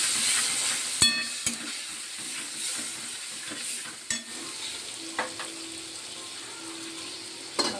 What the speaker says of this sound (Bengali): গ্যাসটা কমিয়ে দেবো আর নাড়তে থাকবো, না হলে পরে দইটা কেটে যাবে।